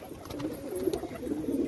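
Pigeons being readied for a pigeon-flying tournament give soft, low repeated coos that carry steadily, close by, with faint flutter and background noise.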